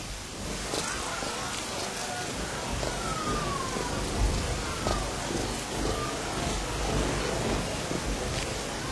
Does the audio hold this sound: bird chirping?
no